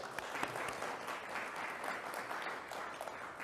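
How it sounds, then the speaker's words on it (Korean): Warm applause from a Korean church congregation during a Sunday service in Irvine, greeting a newly introduced married couple; continuous soft clapping at a fairly quiet, even level. "우리 박수로 인사하십시다"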